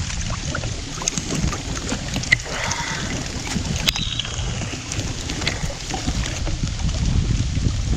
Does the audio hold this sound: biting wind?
yes